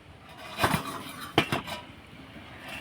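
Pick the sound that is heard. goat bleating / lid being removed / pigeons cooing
lid being removed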